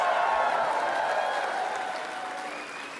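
Applause from a crowd at a Mark Carney political rally in Richmond, B.C. fills the space, a dense wash of clapping and cheering that slowly fades over a few seconds.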